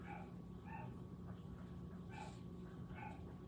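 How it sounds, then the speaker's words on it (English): A dog barks faintly in the distance, several short yips spaced irregularly over a steady background hum. "Can y'all hear a wild dog out there barking?"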